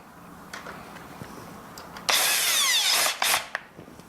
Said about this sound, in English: I have my drill torque set to 0.